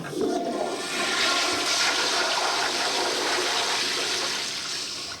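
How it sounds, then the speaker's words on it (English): A toilet flushes in one steady, loud rush of water lasting about five seconds, draining dirty water from the bowl, with no talking over it. "First of all, you flush the dirty water away before you start."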